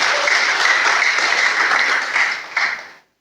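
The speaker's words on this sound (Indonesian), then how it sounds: "Berikan tepuk tangan bagi Tuhan." Loud, dense applause from a large church congregation, sustained for a few seconds before quickly fading out.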